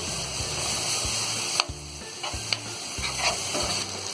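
Loud, close sizzle of ginger garlic paste frying in a pan, with a low rhythmic hum beneath and occasional sharp scrapes from stirring.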